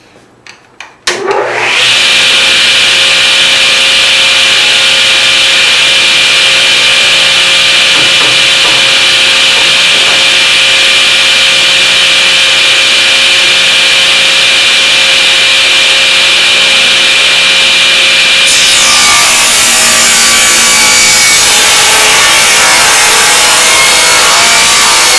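A table saw resawing a board for cabinet drawers starts up and runs with a loud, steady motor whine, the blade cutting through the wood for about twenty seconds before the pitch changes as the cut ends.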